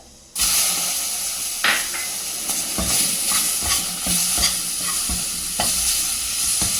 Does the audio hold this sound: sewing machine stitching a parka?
no